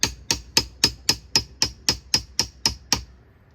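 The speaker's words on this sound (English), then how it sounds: "And tap that, and you can see now that this rivet is almost completely out." A crowbar is tapped with a hammer to knock out a rivet on a Kawasaki Ultra jet ski hood, giving about a dozen sharp metallic taps at an even, quick pace, close and clear.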